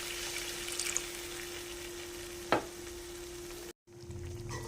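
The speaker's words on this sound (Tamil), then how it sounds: "இப்போ இது கூடவே திக்காக கரைச்சி வச்சுருக்கிற புளி கரைசல் ஆட் பண்ணிக்கலாம்" Thick tamarind extract poured into a pan of frying brinjal gravy, giving a steady close sizzle with one sharp splash partway through and a brief dropout near the end.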